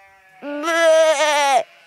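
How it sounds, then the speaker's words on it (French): A sheep bleats in a storybook tale of jealous sheep complaining: one loud, sustained, wavering nasal call of about a second, close and alone, cutting off abruptly. "les autres moutons, un peu jaloux, se plaignent"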